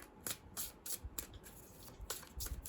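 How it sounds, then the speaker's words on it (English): Tarot cards riffled and shuffled in several quick, papery bursts with short pauses between, close and fairly quiet. "It's going to give them another good shuffle."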